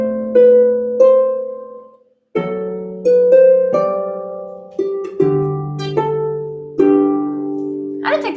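A harp plays the last line of Hark the Herald as plucked notes and chords, each ringing and decaying, with a short pause after the opening phrase and a steady, clean melodic line to the end.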